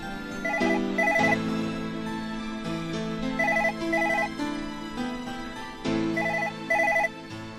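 A telephone rings repeatedly in short electronic trills, each burst sounding in pairs with brief gaps, loud and close over a steady background music bed with no talking.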